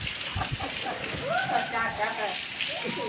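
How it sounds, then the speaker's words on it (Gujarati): Heavy rain pours down in a full downpour, a dense steady hiss filling the scene, with faint voices and brief tonal sounds layered over it. "હવે ફૂલ વરસાદ ચાલુ થઈ ગયો છે."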